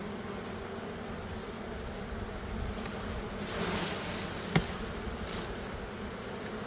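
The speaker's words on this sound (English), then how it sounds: "Lots of bees in there." A constant, dense hum of many bees fills the air around a hive, with a louder buzz passing close and a brief knock partway through.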